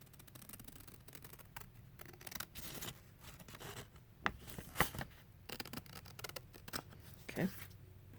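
Scissors snip through quilting fabric in a quiet room, with a few sharp, separate cuts and soft handling rustles between them.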